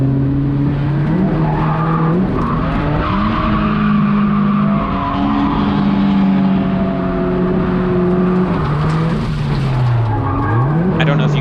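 A Nissan 240SX drifting on track, its tires skidding and squealing in long sustained screeches over a loud, revving engine that rises and falls throughout.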